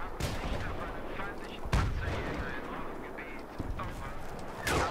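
Battlefield 3 multiplayer combat with a tank nearby, heard as a steady dense rumble of gunfire and explosions, with sharp louder blasts near the middle and again at the end.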